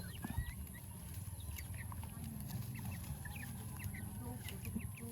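Broiler chickens on a farm clucking softly at a distance, scattered short calls over a quiet, steady background.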